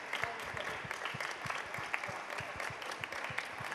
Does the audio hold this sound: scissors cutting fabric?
no